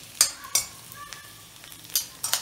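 Crushed dried red chillies and their seeds dropped into hot oil, a quiet sizzle punctuated by several sharp clinks and scrapes of a spoon against the pan, with no speech.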